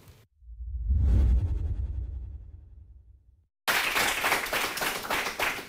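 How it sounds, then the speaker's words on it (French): Studio audience applause at a French television quiz show, a swelling burst of clapping that fades out, then after a brief gap a fresh dense wave of steady clapping resumes to the end. "Mesdames et messieurs, on va l'applaudir encore."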